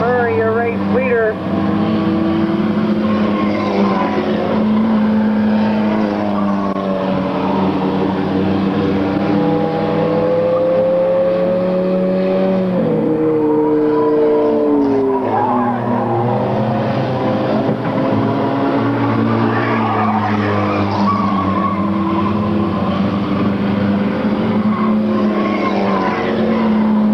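Race cars roar around a circuit in a continuous, loud engine drone with shifting pitch as the pack passes, while an announcer calls the race over the top.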